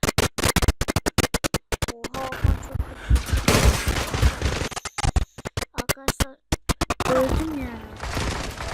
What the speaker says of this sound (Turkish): şu M4 abi silah çok tepiyor